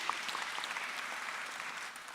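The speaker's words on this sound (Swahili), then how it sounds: "Wapigieni makofi." An audience at a welcome gathering claps steadily, a dense, even wash of applause from many hands lasting the whole stretch.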